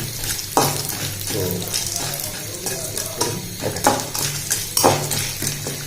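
Metal spoon scraping and clinking against a pan as corn kernels are stirred in hot oil for popcorn, with a steady low hum and background sizzle under irregular sharp taps and scrapes.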